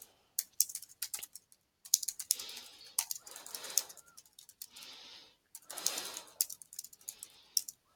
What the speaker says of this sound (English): So I've typed in my little comment for her.